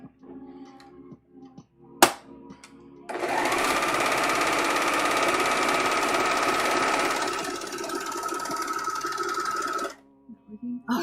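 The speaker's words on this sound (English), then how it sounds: "Now I can just do these really fast, because serging is super fast when the settings are correct." A serger overlocking fabric runs at high speed in one steady, loud burst of several seconds, whirring and rattling fast, with quieter handling sounds and a sharp click just before it starts and after it stops.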